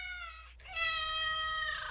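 A cat meows in a commercial, giving a clear, drawn-out mewing call that swells after a brief pause and holds steady, loud and close, with no talking.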